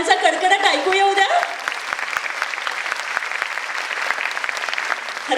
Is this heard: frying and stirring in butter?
no